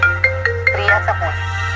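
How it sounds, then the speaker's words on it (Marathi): A mobile phone rings indoors in a Marathi TV serial scene, with a few short repeated tone pulses followed by a brief melodic phrase. The ringtone is loud and close over a steady low hum. "त्याचाच फोन आहे वाटतं"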